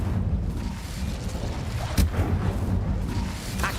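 An Incendio fire spell cast in a Hogwarts video game, a dense roaring rumble with a sharp burst near the middle, loud and continuous throughout without talk.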